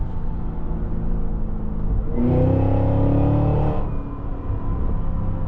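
A supercharged 2026 Cadillac Escalade-V engine accelerates hard, a steady cabin drone rising into a loud, layered roar with supercharger whine for about two seconds before easing back to a lower rumble.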